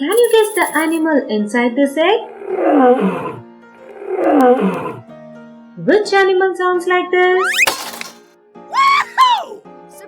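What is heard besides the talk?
lion roaring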